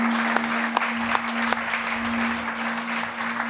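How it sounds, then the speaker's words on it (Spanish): Congregation applause at a Shabbat sermon, a steady wash of clapping from a gathered crowd with a few sharper individual claps standing out, a constant tonal hum running underneath. "Dale un aplauso a Él."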